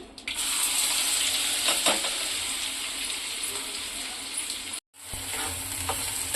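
Steady loud sizzling of onions frying in hot oil, broken by a brief moment of silence near the end before the crackle resumes.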